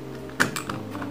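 Typing on a cheap non-mechanical gaming keyboard, with a few soft, muffled keystrokes close by and one slightly louder press.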